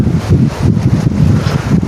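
Gusty wind buffets the microphone in a loud, low rumble that swells and dips over about two seconds, with no voices, on a rainy autumn day at a wind turbine site.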